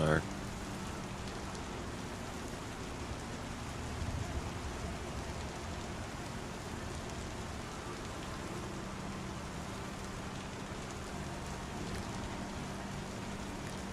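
Rain falls steadily in Star Citizen, a soft, continuous hiss of rainfall in the background that stays faint and even throughout, with no distinct drops or thunder standing out.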